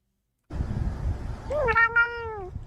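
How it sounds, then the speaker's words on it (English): A cat meows once, a drawn-out, rising-then-falling call close by over a soft outdoor background hiss. "Kitty meows?"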